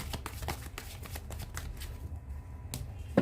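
Tarot cards being shuffled during a reading, a close and soft steady riffle of flicking cards that continues for a few seconds, ending with a small tap.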